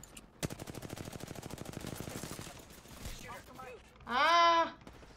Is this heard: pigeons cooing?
no